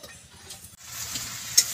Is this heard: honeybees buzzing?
no